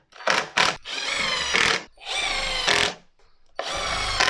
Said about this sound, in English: A clamp on both sides, and then I'll drive some screws in through both ends